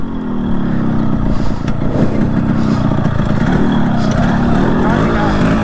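At a drag race, Yamaha RX100 and Hero Splendor motorcycles idle and rev nearby, their engines burbling and clattering steadily while people talk over the engine noise.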